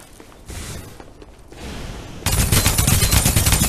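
Gunfire in the battle-royale video game Farlight 84: rapid automatic bursts that swell into a loud, dense, continuous fusillade in the second half, over busy game ambience.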